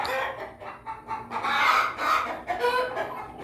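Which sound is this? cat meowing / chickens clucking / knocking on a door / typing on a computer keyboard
chickens clucking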